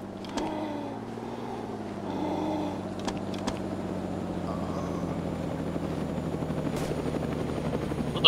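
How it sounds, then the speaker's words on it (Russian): A helicopter in the DayZ video game drones steadily with a low rotor hum throughout, moderately loud and continuous, with no speech over it. "ну я чувствую, там и вертушка"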